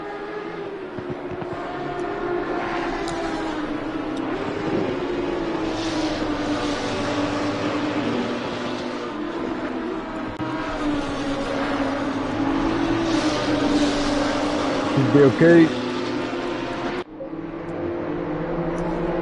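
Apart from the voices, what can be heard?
BMW M2 race cars driving, from a racing video game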